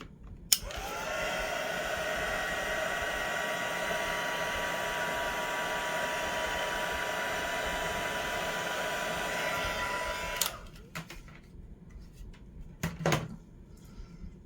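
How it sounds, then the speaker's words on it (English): A heat gun blows hot air over a card-making project, switching on with a click into a steady, loud whooshing whine with a motor hum that holds for about ten seconds before cutting off, followed by small handling clatter. "I'm going to hit this with the heat gun one more time."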